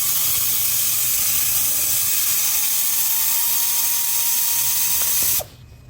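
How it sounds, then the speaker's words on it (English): Ratchet loosening a 13 mm bolt on the drive belt tensioner of a Ford F-150 5.0L engine, a steady continuous hiss-like whir close up that runs for over five seconds and then stops abruptly. "remove driver belt tensioner 13 millimeter bolt head, and then remove driver belt tensioner"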